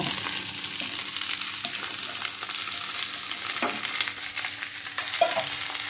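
Okra, known as bendekai, fries in a pan for a chapati-side palya, giving a steady close sizzle and crackle with occasional scraping stirs throughout, and no one speaks.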